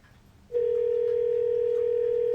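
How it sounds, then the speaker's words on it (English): A telephone call to a cycle shop rings unanswered, a steady electronic tone starting after a short quiet moment and holding loud and unbroken to the end. "It's been ringing now for about a minute."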